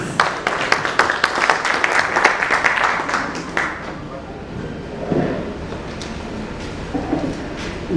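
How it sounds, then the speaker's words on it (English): A conference audience at an inaugural session in Jaipur gives a round of applause. Brisk, dense clapping fills the first few seconds, then tapers off into quiet room tone with a few faint sounds. "Let's give him a round of applause, please."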